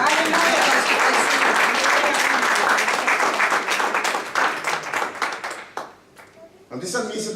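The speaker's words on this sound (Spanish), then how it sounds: "Um aplauso para Deus." A church congregation applauds in praise during a sermon, loud sustained clapping from many hands that gradually thins and fades, followed by a voice speaking.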